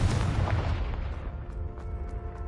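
A Confringo fire spell blasts in Hogwarts Legacy on PS5, a loud close booming explosion with a heavy low rumble that decays over a couple of seconds, followed by faint scattered debris ticks.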